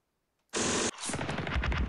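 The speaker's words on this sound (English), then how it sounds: "let's select this machine gun and" Machine gun fire in a World War II strategy game set during Operation Sealion, a loud sudden burst starting after a short silence, followed by a rattling roar that trails off into rumbling noise.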